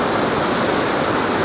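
Rushing floodwater pours across a road after a cloudburst in Kullu-Manali, a loud, steady, broadband roar that continues unbroken and close by, with no voices over it.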